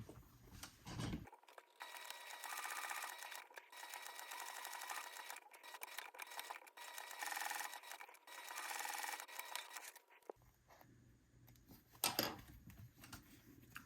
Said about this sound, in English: we're going to stitch a box all the way around the outside at 1/8 of an inch